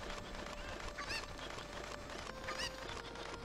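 Chicken clucking in the video game Zelda: Ocarina of Time, two short squawking calls about a second and a half apart over steady game background sound, with no talking.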